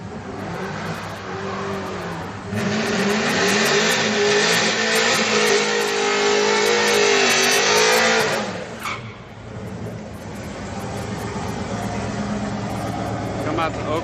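Two street cars, a GMC and a Chevy, roar side by side at a Friday night street race in Oklahoma, engines rising to a loud sustained rev for several seconds before dropping off, with crowd chatter and voices around the track.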